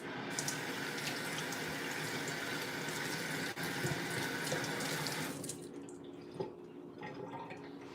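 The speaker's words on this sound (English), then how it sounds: "Let me rinse my hand." A kitchen tap runs steadily while a hand is rinsed under it, a close, even splashing that cuts off after about five seconds, leaving quiet room sound and a drip.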